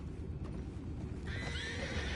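A horse in Red Dead Redemption 2 whinnies and snorts amid steady low rumble, with a high rising neigh near the end over continuous background noise.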